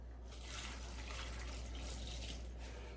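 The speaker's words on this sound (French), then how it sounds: "je vais ajouter mon bouillon de légumes" Vegetable broth poured into a Moulinex Multicook & Fry multicooker, a steady close splashing pour of liquid that runs continuously for about three seconds with no talk.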